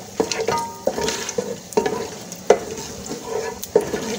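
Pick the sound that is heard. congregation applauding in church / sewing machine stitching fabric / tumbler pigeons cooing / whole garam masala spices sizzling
whole garam masala spices sizzling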